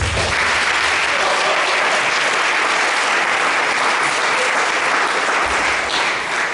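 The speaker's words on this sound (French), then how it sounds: "Acclamons le Seigneur." Loud, sustained applause fills a church service as the congregation claps in praise of the Lord during a sermon on deliverance from demons, continuous and close throughout.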